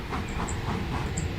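Henry, a steam locomotive, puffs out with rhythmic chuffs of steam and soft hissing over a steady rumble of rolling wheels, fairly close and continuous.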